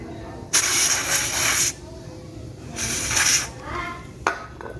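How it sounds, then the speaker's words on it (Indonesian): Carburetor cleaner sprays from an aerosol can onto crusted deposits while a fan that won't spin is being repaired: two long, close hissing bursts and a final short spurt. "semprot karburator cleaner aja buat membersihkan si"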